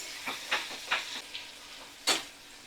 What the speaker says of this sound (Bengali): পেঁয়াজটা ভালো করে আমি ভাজা করে নিচ্ছি